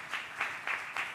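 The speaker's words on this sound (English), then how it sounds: "A big applause to her." Four evenly spaced hand claps in a steady rhythm, soft and slightly distant.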